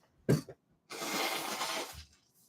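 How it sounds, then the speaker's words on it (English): A brief cough-like snort, then a long, forceful nasal blow lasting about a second, close up, followed by a quiet sniff. "I'm going to have to blow my nose."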